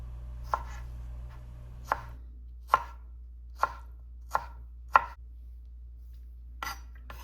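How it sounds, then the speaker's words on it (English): A knife chops strawberries on a cutting board in seven sharp, evenly spaced knocks, close and clear over a quiet background hum. "Time to chop up these strawberries. Chop them up pretty finely."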